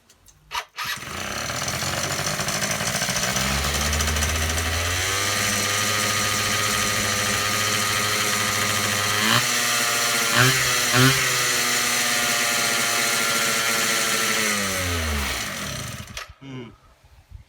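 A Yamaha JOG ZR scooter engine is started, catching after a short crank and then running with a close, loud buzzing drone, revving up briefly a few times before winding down and cutting off near the end.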